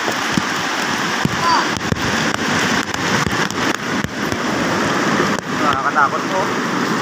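Steady heavy rain pours down during flooding, a dense hiss with scattered louder drops, and a voice speaks briefly beneath it.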